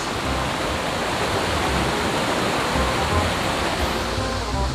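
Fast-flowing water at a lake rushes in a constant, broad roar, loud and close, steady throughout with no break.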